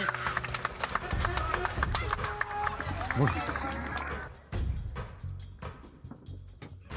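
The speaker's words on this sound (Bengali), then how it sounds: "ওনার জন্য একটা জোরে হাততালি।" A crowd at a football ground applauding a chief guest: a dense patter of many hands clapping under a speaking voice, which then gives way to a quieter indoor scene.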